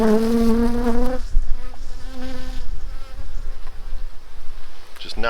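Honey bees buzz steadily around an open hive during a hive split with a queen excluder, a dense close hum throughout, with a brief higher whine early on.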